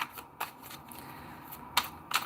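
Quiet riffling and soft slaps of tarot cards being shuffled by hand, with brief sharper snaps at irregular moments.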